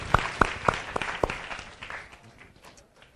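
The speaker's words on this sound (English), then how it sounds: "let's give him a round of applause" A small workshop audience gives a short round of applause, starting with a few distinct sharp claps and thinning out into faint scattered clapping that fades away.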